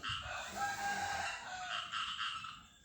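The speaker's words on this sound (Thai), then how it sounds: "ฟังเสียงกบ เสียงเขียด เสียงไก่ครับ" A rooster crows at a distance, drawn out, in the early morning over a constant dense outdoor background of chirping frogs.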